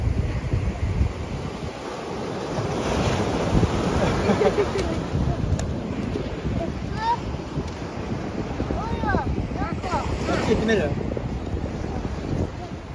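Ocean waves wash in at a seashore where many sailboats are moored, and the surf swells and falls under heavy wind buffeting the microphone while a person speaks now and then.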